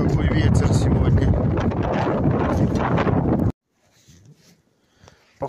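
Strong wind buffets the microphone outdoors on a forest trail during a fishing outing, loud roaring gusts that cut off abruptly, leaving faint rustling and quiet movement.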